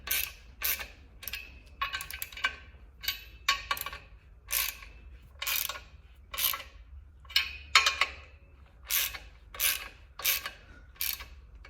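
Ratcheting wrench tightens bolts during a clutch install on a Chevelle engine, giving a series of short rhythmic clicking bursts, close and fairly quiet, with brief pauses between strokes.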